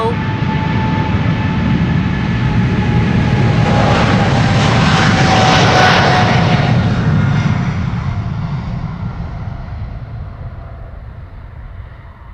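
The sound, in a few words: KLM Boeing 777-300 taking off at Schiphol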